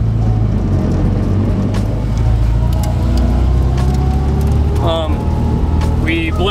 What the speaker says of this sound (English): In case you can't tell, the car's running.